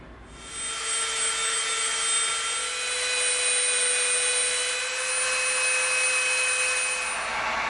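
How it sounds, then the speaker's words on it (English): A Dremel rotary tool bevels the edge of EVA foam with a steady, high-pitched whine that holds close and loud for several seconds, grinding without pause and with no speech. "Then we're going to bevel it with the Dremel."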